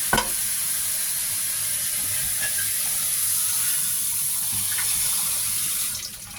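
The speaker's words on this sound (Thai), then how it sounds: "เราก็จะล้างน้ำอีกทีนะคะ" Sago pearls rinsed under running tap water in a kitchen while making a durian sago dessert, a loud steady rush of water with faint clinks and sloshing throughout, fading at the end.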